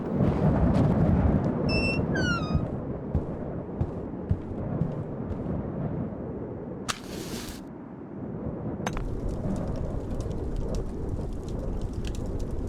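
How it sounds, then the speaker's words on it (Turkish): A video game thunderstorm: heavy rain roars steadily with low rumbling thunder, broken by a few short electronic beeps and chimes and a burst of noise midway. "Fırtına başlamış."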